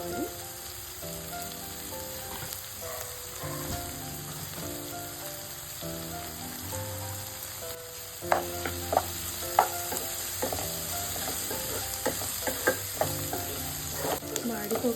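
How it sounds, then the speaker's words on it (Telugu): Okra frying in plenty of oil with turmeric while being stirred steadily, a dense crackling sizzle that runs throughout, with a spoon's repeated scrapes and clinks against the pan growing busier in the second half. "మాడిపోకుండా ఇలా కలుపుతూనే ఉండాలండి బెండకాయలు వేసినప్పటి నుండి. బెండకాయ ఆయిల్లో ఫ్రై చేస్తున్నప్పుడు కొంచెం ఇట్లా జిగురుగా వస్తుంది."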